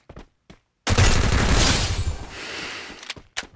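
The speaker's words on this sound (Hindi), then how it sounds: "पूरा गन साउंड बदल चुका है। क्या ही प्यारा सा हेडशॉट कनेक्ट हो रहा है" Gun firing headshots in the mobile shooter Free Fire: a few light clicks, then a loud close burst of gunfire that trails off, with more short snaps at the end.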